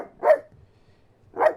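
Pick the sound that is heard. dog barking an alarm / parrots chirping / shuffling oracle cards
dog barking an alarm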